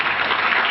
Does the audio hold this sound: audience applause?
yes